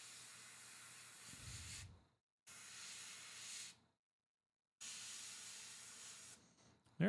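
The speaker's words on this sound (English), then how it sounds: "Keep the airbrush moving." Airbrush spraying paint onto a Space Wolves miniature, three bursts of steady airy hiss, each about two seconds long, separated by short silences, heard close with no talking.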